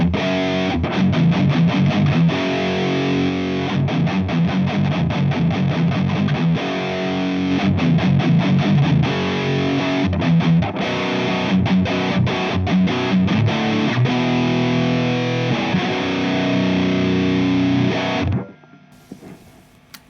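Heavily distorted electric guitar played through a Two Notes Torpedo Captor X reactive loadbox, loud chugging riffs with rhythmic palm-muted stops and sustained chords for about eighteen seconds before cutting off to near silence.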